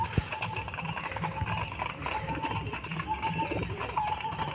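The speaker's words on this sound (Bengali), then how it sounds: "দেখো কত সুন্দর পায়রাগুলো খাচ্ছে" Pigeons feeding on scattered wheat grain, with soft repeated pecking and shuffling taps and faint fluttering over a steady background hum, plus occasional brief cooing.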